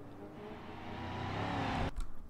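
A car driven by script AI in BeamNG.drive, its engine droning steadily and building slightly louder before an abrupt cut near the end, with no voices.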